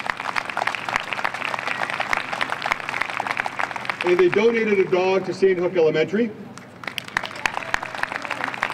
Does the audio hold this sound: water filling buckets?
no